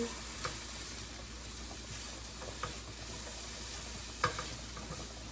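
Cheeseburger pasta ingredients with caramelizing onions stirred in a buttered pan, a quiet steady frying hiss with occasional soft clicks and scrapes of the utensil.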